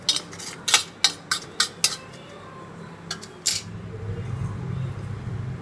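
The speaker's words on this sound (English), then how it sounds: "So just mix it well." Brinjal curry being mixed with garam masala and salt, a spoon scraping and clinking against a microwave-safe dish in a quick run of sharp taps, then softer stirring with a low hum behind.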